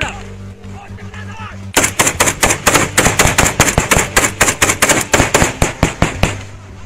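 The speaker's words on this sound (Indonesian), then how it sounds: "Baku tembak terjadi saat tim gabungan TNI Polri mengejar kelompok bersenjata di Kampung Maki, Kabupaten Puncak, Papua" A gunfight between a joint TNI–Polri security team and an armed group in Kampung Maki, Puncak, Papua: after a quiet opening, a long run of loud, rapid, closely spaced shots bursts out and continues to the end.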